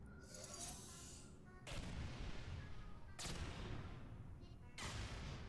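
In Portal 2, turrets fire on each other in bursts of rapid gunfire and crashing impacts, with three or four loud, dense volleys separated by short gaps.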